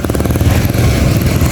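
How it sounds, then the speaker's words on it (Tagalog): A motorcycle engine runs loud and close, a rapid steady throbbing rumble with no pause and no talking. "Sasakay na tayo sa kanyang motor."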